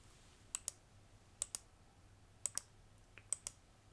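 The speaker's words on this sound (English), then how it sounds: "And now the smaller, more petite click." Small, petite clicks in quick pairs, four sets spaced about a second apart, crisp and close against a quiet background, an ASMR clicking trigger with no talking.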